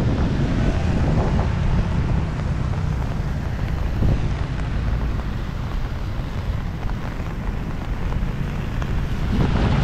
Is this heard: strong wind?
yes